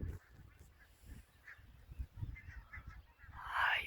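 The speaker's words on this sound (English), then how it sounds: "Look, geese. Tons." A large flock of geese flies over open fields, honking faintly in the distance in repeated overlapping calls, with low rumbling noise beneath.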